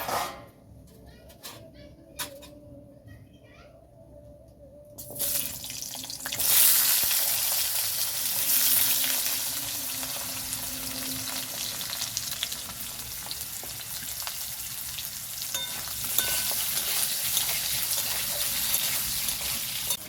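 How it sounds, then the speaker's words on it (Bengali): Potatoes frying in a little oil in a wok for a village-style fish curry. Quiet scrapes open it, then a loud sizzle rises and holds steady under repeated stirring, with a dog barking faintly in the background. "এইভাবে নাড়াচাড়া করে আলুটাকে লাল করে ভেজে নেব।"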